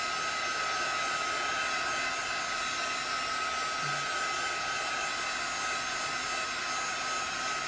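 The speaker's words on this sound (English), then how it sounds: "I'm going to take my heat gun" A heat gun blows steadily while drying a Cricut craft tile coated with pearlescent powder, a loud constant hiss and whoosh running unbroken and close, with no talking.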